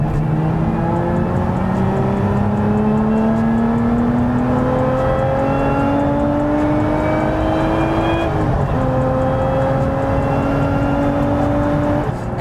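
A 2023 Lotus Emira 3.5 V6 with a supercharger and manual gearbox revs loudly and close up, its engine note rising in several long sweeps with a strong intake and supercharger whine and no talking.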